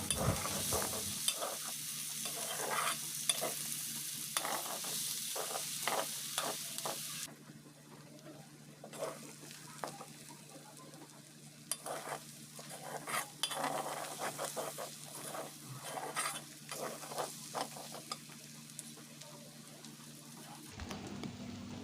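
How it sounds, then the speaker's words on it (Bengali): Chopped onions frying with beef tripe in oil in a home kitchen, a continuous close sizzle broken by repeated scraping stirs and utensil clatter, the sizzle dropping quieter halfway through. "পেঁয়াজ কুচিটা দিয়ে আবারও এভাবে কিছুক্ষণ ভেজে নেব"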